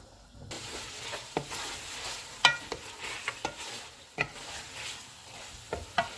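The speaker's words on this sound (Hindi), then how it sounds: "चूल्हे को फुल रखेंगे और इसको ऑयल अलग होने तक भून लेंगे।" Beef frying with coriander powder, crushed cumin and crushed red chilli over a full flame, a soft steady sizzle broken by sharp scrapes and clacks of a spoon stirring in the pan.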